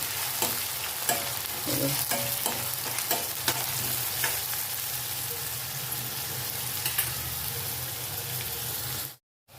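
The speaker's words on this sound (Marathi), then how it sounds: "कांदा लाल झाला ना तर मग आपण पुढील प्रोसेस करूया" Onions frying in a pan, a steady close crackling sizzle with frequent stirring scrapes and clinks, cutting off abruptly near the end, no talking.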